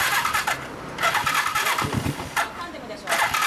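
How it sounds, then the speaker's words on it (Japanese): A Kawasaki Zephyr 400 Super Four motorcycle with a Yoshimura exhaust cranks and catches amid bursts of nearby talk, the engine sputtering in short, uneven pulses at close range. "ちょっと前出してエンジンかけてもらおうかな。"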